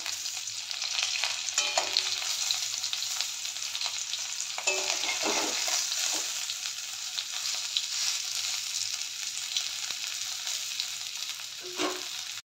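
Plantain slices fry in a pan with a steady, dense sizzle that runs throughout, broken by a few soft clinks and stirring knocks from the cookware.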